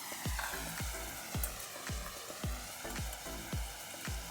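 Turmeric and chopped tomato fry with onion in a pan, with a steady sizzle broken by regular spatula scrapes about twice a second, close and clear with no voices.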